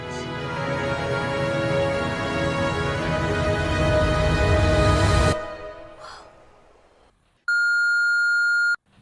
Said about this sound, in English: Hey Matt, got your voicemail